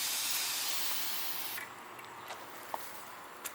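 A refillable pressurized hand sprayer releases a fine mist as a steady, fairly quiet hiss lasting about a second and a half, then cuts off, leaving a few faint clicks.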